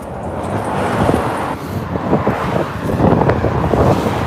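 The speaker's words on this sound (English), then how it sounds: "Sorry about the road noise" Steady road noise rumbles throughout with wind buffeting the microphone, a continuous whooshing drone from a moving vehicle, before dawn in the flooded Norfolk Broads.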